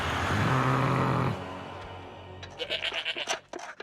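Goat from the Gravity Falls cartoon gives a loud, drawn-out bleat that breaks off and is followed by quieter clicks and rustles.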